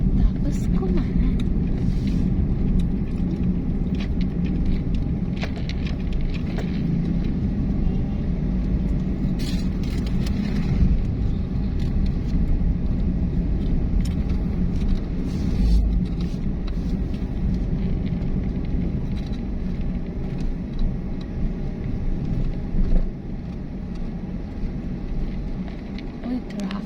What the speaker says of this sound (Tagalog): Uy, traffic.